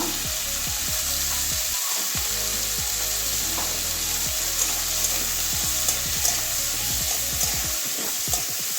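Bitter gourd frying with turmeric in a covered pan, a steady close sizzle running throughout with repeated light scraping and stirring strokes against the pan.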